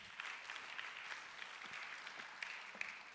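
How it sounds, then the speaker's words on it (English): Applause from an audience, a dense spread of clapping hands, fairly faint and steady throughout with no voices. "Please give him a big round of applause."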